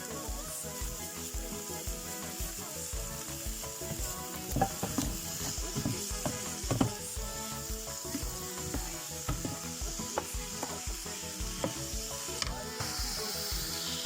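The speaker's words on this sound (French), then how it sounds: "Pour faire sauter les oignons. Je mets un peu de sel." Onions sautéing with salt in a pan, a steady close sizzle with stirring and scraping throughout.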